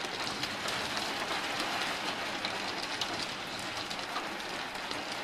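Heavy nighttime rain during a thunderstorm makes a dense, continuous roaring hiss at steady loudness throughout, with no distinct thunder crack standing out.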